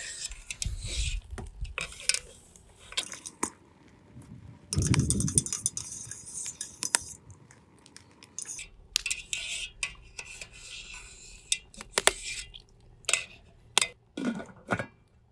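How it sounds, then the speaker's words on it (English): Intermittent wet sloshing and scraping, with metal and glass clinks as maple sap is worked through a strainer to remove bark pieces; close up, no talking. "Just going to try and strain a bunch of these pieces of bark out of here."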